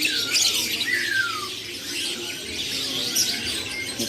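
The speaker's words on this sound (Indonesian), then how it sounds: "Rame burung, bukan rame pengunjung." Many birds at Pramuka bird market in Jakarta chirp, squawk and whistle in a busy overlapping chorus, fairly close and continuous, with no talk.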